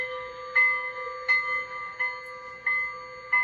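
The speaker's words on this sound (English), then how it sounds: "Then we have F1 for the bell." Bell sound from a Bachmann two-truck Shay model locomotive with a Zimo sound decoder, ringing in a steady series of clear, evenly spaced dings at close range with no talk over it.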